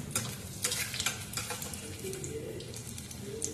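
Bhaji fry in hot oil with a steady, close sizzle and bubbling, broken by occasional clinks of a utensil stirring in the pan.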